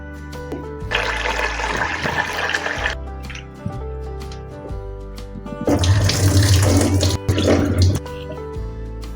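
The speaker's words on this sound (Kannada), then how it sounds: "ಇದನ್ನ ಸ್ವಲ್ಪ 2 ಸತಿ ತೊಳ್ಕೊಂಬರೋಣ." Tap water runs into a vessel to wash mung dal, two separate bursts of gushing, splashing flow close by, each a few seconds long with a short pause between.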